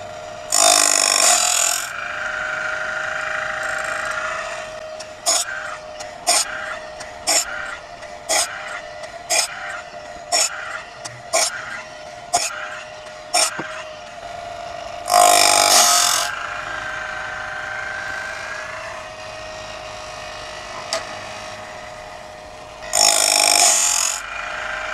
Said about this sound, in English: the Woodland Mill Sharpener